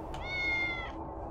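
A cat in the video game Tales of the Neon Sea gives a single clear, drawn-out meow, close and prominent over a steady low background hum.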